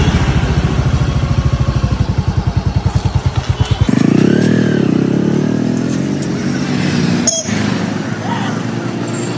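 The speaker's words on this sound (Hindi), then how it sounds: "मैं अभी ये बाइक फिर से चलाऊंगी" A motorcycle ridden by a young woman learning at home during lockdown, its engine putting out a steady rapid throb for about four seconds, then giving way to a broad rushing wind-and-engine roar with a sharp clink near the end.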